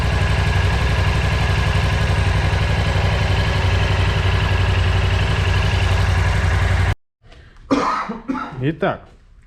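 A BMW C650GT scooter engine idles steadily for about seven seconds while warming up, a dense even rumble that cuts off abruptly, followed by a few seconds of close voices talking.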